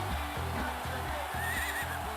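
Horse whinny from the rhythm game Ouendan, a repeated pulsing neigh over a steady game soundtrack, moderately loud and continuous.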